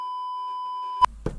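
A censor beep holds as one flat, steady electronic tone for about a second, then cuts off sharply into a couple of brief thumps.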